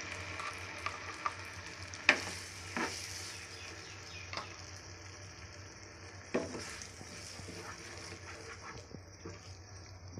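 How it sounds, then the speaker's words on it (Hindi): Ground spice paste fries in two spoons of oil in a pan for dhaba-style paneer sabji, a soft continuous sizzle broken by a few sharp stirring clicks and scrapes, fairly quiet and with no talking. "मसाले को हम 2 मिनट के लिए एक बार फिर से फ्राई करेंगे।"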